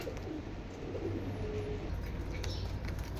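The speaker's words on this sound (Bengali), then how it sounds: "কবুতরগুলা খুব ছটপটা, ভয় পাইতেছে" Penned Indonesian Bukhara and Birmingham Roller pigeons coo in low, soft murmurs over a steady low hum, with a brief faint chirp and a few light rustles.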